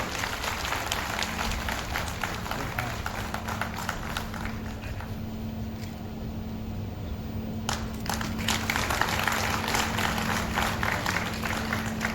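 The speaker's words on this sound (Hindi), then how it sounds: "जोरदार तालियों से स्वागत करें" Sustained applause from a large audience in an auditorium at a trade union convention in Gorakhpur, dense steady clapping running through the whole stretch with a constant background hum.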